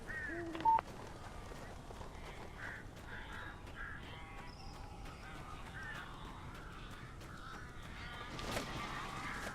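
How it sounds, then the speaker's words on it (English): Birds cawing in the Alan Wake video game, crow-like calls scattered faintly over a steady low ambient game background, with a brief louder burst near the start. "These birds are weird."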